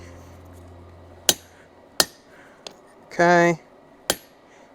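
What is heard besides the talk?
hammer striking chisel into railroad spike on anvil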